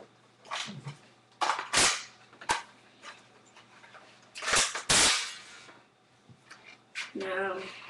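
An airsoft turret, aimed by laser, fires a BB with a few sharp snapping pops spread over several seconds, separated by quiet gaps, with some voices speaking around them.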